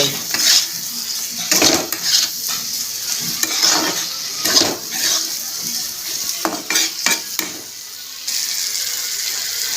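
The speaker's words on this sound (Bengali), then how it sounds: "দেব ধনের গুঁড়ো এক চামচ জিরার গুঁড়ো এক চামচ আর একটু কষাবো" Coriander and cumin powder are stirred and fried in a pan. A spoon scrapes and knocks against the metal in repeated close strokes over a constant loud sizzle, and no one speaks.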